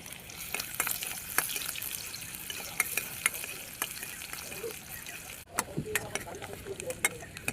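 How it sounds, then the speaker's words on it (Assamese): Onions fry in a pan for Assamese home cooking, with a steady close sizzle broken by stirring clatter and scraping, and a voice speaking over it. "মোৰ পিঁয়াজ পুৰি গৈছে"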